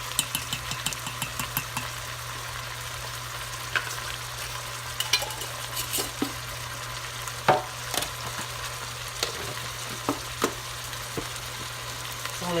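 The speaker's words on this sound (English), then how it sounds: "So let me sear this for a couple of minutes, and I'll bring it back" Pork sears with fresh garlic in a slow cooker set to high, a soft continuous sizzle over a steady low electrical hum, with intermittent small clicks and stirring taps.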